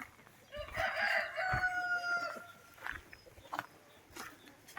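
A rooster crows once at close range on a small farm, a single drawn-out call lasting under two seconds, followed by quieter clucks and faint background sounds.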